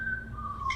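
A thin, wavering whistle drifts over a low background hum, in an allegedly haunted house in Pondok Ungu Permai, Bekasi; brief and moderately faint.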